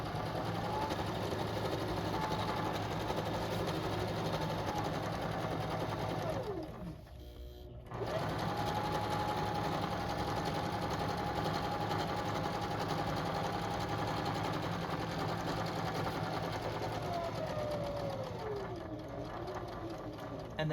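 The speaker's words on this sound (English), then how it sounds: "And so this way I can keep sewing and I don't have to worry about starting a new seam." A sewing machine runs steadily along a pillowcase seam, a continuous close motor whir that briefly stops and restarts as the fabric is pivoted, with no talk over it.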